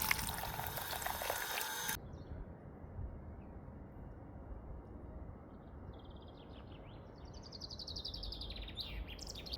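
Water pours from a public outdoor faucet in a short burst, then gives way to a steady outdoor hiss with birds chirping faintly in the background.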